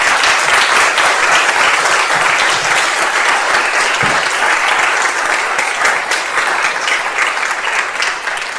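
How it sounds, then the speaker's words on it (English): Sustained applause from a church congregation at an All Souls Day service and memorial garden dedication, dense and steady throughout, with no voices over it. "So please give them a hand of applause."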